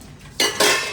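Dishes, pots and utensils being washed in a home kitchen, with two sharp bursts of clattering metal and clinking close by, no voices.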